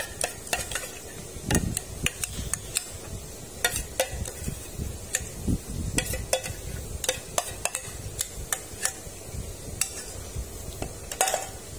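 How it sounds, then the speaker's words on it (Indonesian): A spoon stirs a thick, cooked agar-agar shrimp feed mixture in a pot, making irregular close scrapes and sharp clicking taps against the metal for several seconds. "kita aduk sampai merata ya"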